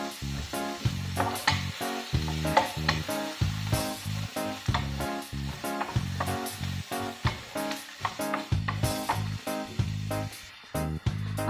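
Shrimp heads sautéing in a pan sizzle under a busy run of sharp clinks and scrapes as they are stirred, loud and close.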